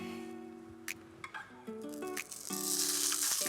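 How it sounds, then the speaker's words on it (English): Faint frying sizzle builds up, growing to a steady hiss by the end, with background music and a few small clicks. "A little bit of sizzle there."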